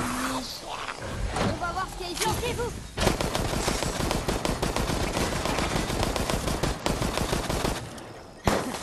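Gunfire in Resident Evil Resistance, rapid sustained bursts of automatic shots over several seconds, with growls and a voice heard earlier amid the game noise.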